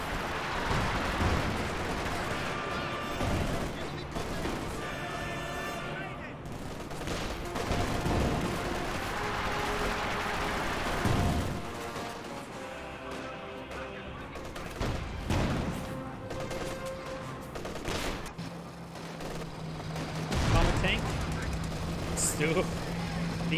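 Gunfire and grenade blasts from a Company of Heroes 2 battle as troops push forward, with bursts of shots and booming explosions spread through a dense, continuous battle mix under a commentator's talking voice.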